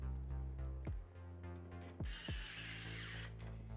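A power screwdriver drives fan screws into a DeepCool Morpheus PC case in short whirring bursts, the motor pitch rising and falling as each screw seats, with a steady hum underneath.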